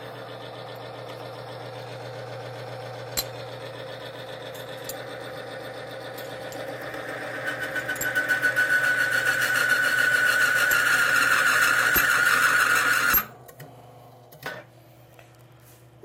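A Timken bearing test machine running with Thixogrease, a steady mechanical hum that builds into a loud whining grind before cutting off abruptly, followed by a couple of clunks.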